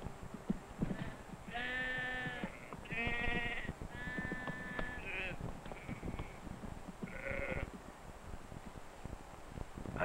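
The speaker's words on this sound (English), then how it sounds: "here are some sheep that don't want to go in." Several sheep bleat in turn, some calls long and wavering, over a soft background of shuffling and rustling from the flock being penned by a sheepdog in the Scottish Highlands.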